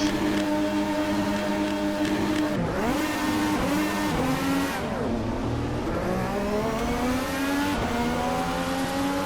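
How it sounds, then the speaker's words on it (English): Formula One cars in a racing simulator game whine and rev up and down with rising and falling pitch, Doppler-like sweeps as cars pass, over a constant engine drone. "F1 car goes by already."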